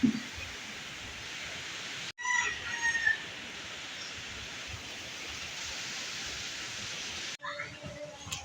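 A rooster crows at a rural homestead, somewhat distant and partly buried in a constant hiss of background noise, with a second faint burst near the end.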